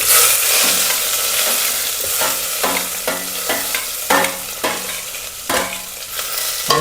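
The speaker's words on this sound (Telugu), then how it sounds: "ఆనియన్ వేసి కొద్దిగా కలపండి కాసేపు" Onions frying in a pan for rasam, loud close sizzling broken by repeated scraping stirs at a steady, irregular pace.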